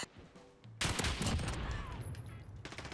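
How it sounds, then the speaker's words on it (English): Pistol fire from the X16 in Call of Duty: Modern Warfare, a quiet lull giving way to a loud burst of rapid shots with crackling echoes, then a few more scattered shots near the end. "That was a clean shot"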